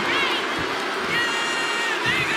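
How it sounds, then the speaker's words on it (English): Arena crowd noise from a WWE 2K25 wrestling match forms a continuous roar of cheering with rising whoops, heard at a moderate level and somewhat distant. "The crowd is behind Abyss"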